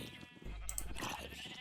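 A sheep bleats in the Minecraft video game, one wavering nasal cry held for about a second, soft and mid-distance over a low background rumble.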